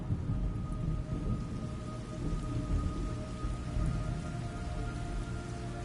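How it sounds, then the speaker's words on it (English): Steady rain with rumbling thunder in the video game Metal Gear Solid Delta, a continuous downpour over a low, rolling storm rumble with no voices. "It's raining blood."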